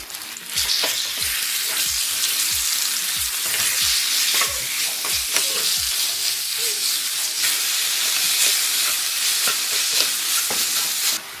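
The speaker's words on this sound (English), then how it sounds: "Now we're going to fry the chicken in high flame for about 1 minute." Chicken for a Chinese stir fry sears in oil over a high flame, a loud, continuous sizzle with bright hiss, overlaid by rhythmic scraping and clanking from a utensil stirring in the pan.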